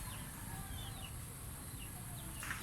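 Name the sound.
chickens clucking at feeding time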